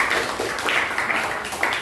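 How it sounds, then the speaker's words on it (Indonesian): Classroom applause for a student, a short burst of scattered hand clapping from a group of children, fairly close and continuous for about two seconds. "tepuk tangan buat Mbak Kaila"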